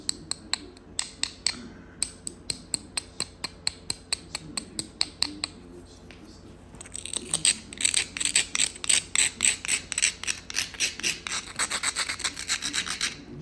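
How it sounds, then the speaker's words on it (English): Hand grinding stone scraping a notch into a stone dovetail preform: evenly spaced single rasping strokes at first, then faster, denser and louder scraping, close up with no voice. "Go ahead and grind it up into here."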